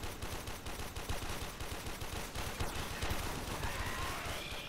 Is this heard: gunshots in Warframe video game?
yes